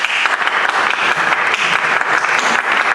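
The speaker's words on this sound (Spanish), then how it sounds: "Un aplauso para todos ellos." An audience at an Asturian film festival presentation applauds the short film makers, with loud, dense clapping sustained throughout the brief moment.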